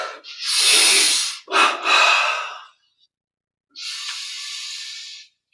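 Deep breaths in a meditation exercise, audible and close: two long airy inhales and exhales in quick succession, a pause of silence, then another long breath.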